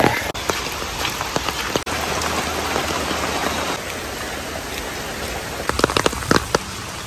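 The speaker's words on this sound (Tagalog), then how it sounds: "Ayaw huminto nung ulan." Rain falling steadily outdoors in Honolulu, Hawaii, a dense continuous patter on surfaces with a few louder drips near the end, heard alone without talk.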